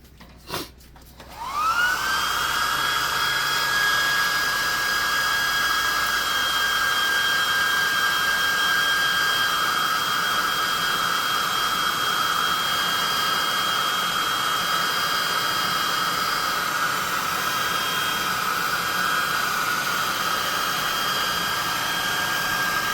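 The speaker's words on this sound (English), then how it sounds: "So now I'm going to hit him with a +2 hot air gun and burning real quick." A handheld hot air gun starts with a click and then blows steadily and loudly up close, drying a painted tabletop-game miniature of a magmin; it holds a constant whirring rush with a high whine, and no one speaks.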